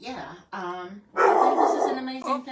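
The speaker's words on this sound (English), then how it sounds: "That's our dog." Pet dog barking indoors during a live stream from a furniture workshop, several loud barks overlapping and following someone talking nearby.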